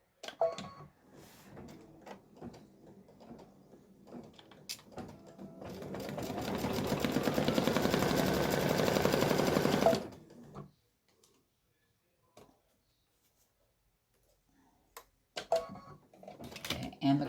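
An embroidery machine satin-stitches curly pumpkin vines, its dense, rapid buzzing rising for about four seconds and then stopping, with someone talking before it and handling clicks afterward.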